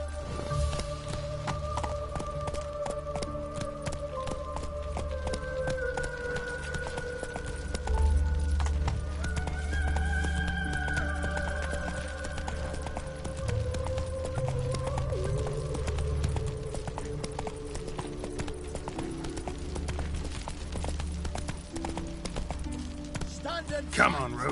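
Hooves of the horse Roach galloping in The Witcher 3, a steady, rapid clip-clop rhythm running throughout under game music and ambient sound, with voices heard briefly.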